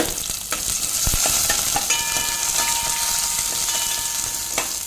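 Onions sizzle steadily in hot oil with curry leaves while a spoon scrapes and stirs the pan with occasional sharp clicks; no talking.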